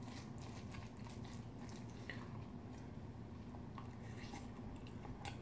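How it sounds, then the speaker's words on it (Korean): Someone eats Jeonju bibimbap close to the mic, with soft wet chewing and biting sounds over a low steady background hum; no one speaks. "먼저 맛있게 먹도록 하겠습니다"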